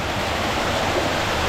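Hot spring water in Armenia boils and bubbles in a dense, steady rushing wash, close and continuous with no voices.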